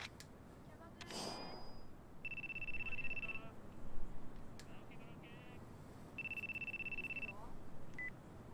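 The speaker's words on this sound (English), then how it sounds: "Dead guy's cell phone's ringing" In the PS2 game Yakuza, a dead man's cell phone rings with two short electronic trill bursts separated by a pause, heard over low game ambience and occasional voices.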